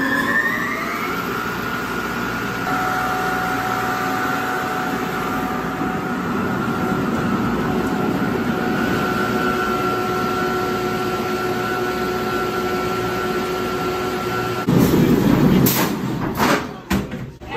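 A roller coaster at Indiana Beach amusement park rumbles and whines on its track, with steady mechanical tones held for most of the ride before a burst of louder clattering and rattles near the end.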